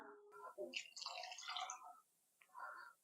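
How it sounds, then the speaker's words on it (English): Water pours into an Instant Pot of beef stew with a burbling, splashing trickle. It rises and falls, pauses briefly and then resumes, faint and close, with no talking. "this is where you would just top it up with water"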